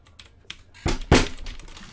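A streamer slams and smashes a computer keyboard, two heavy loud impacts following a few lighter knocks and clacks, with a brief rattle trailing off afterward.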